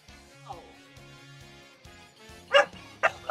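Dog barking in short sharp yips near the end, a few loud bursts over a steady background of electronic music.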